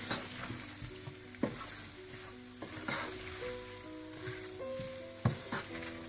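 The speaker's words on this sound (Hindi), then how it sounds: "अब इसे अच्छी तरह से मिक्स कर लें।" Dhaba-style palak gosht, a spinach and mutton curry, being stirred in a pan, with a steady sizzle beneath occasional scrapes and clinks of the spoon against the pan.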